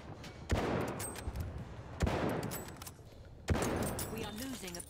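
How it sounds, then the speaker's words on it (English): Enemy fire in the World War I shooter Battlefield 1: three loud, evenly spaced gunshot blasts, each with a booming tail, set against background battle noise and faint voices. "Feindliches MG!"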